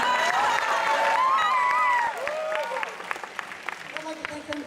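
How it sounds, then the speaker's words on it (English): Applause and cheering from a convention audience at an anime improv comedy event, dense clapping under a speaking voice at first, then thinning into scattered claps and shouts. "Let's get another round of applause for our opening act, Flo."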